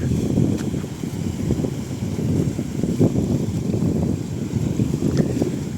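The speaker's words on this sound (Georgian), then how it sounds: "აი ტალღა რომ დაეხეთქება და ჩანჩქერივით რო ჩამოდის მერე წყალი" Sea waves crash against rocks in a continuous rushing roar with surging swells, mixed with wind buffeting the microphone.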